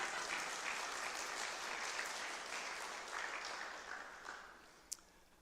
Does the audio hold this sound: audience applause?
yes